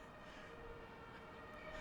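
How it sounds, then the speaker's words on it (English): A distant ambulance siren drifts faintly over a steady street hum on an old street in Södermalm, Stockholm, with no talking. "ambulance"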